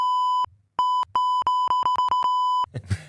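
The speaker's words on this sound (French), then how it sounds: "je ne veux pas répéter les on va biper" Censorship bleeps from a French café debate show mask insults: one long steady tone, then a run of quick, loud bleeps in close succession, ending with a brief murmur of voices.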